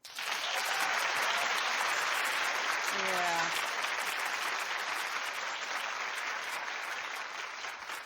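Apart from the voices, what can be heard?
studio audience clapping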